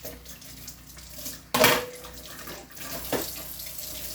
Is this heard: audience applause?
no